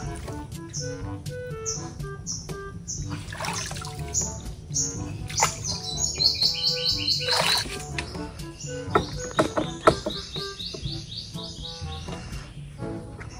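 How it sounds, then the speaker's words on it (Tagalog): Birds chirp and tweet repeatedly in quick, overlapping calls outdoors, with a soft rushing of water in the background. "Talagang ibon po ang maririnig mo kapag po ikaw ay nandito sa ilog."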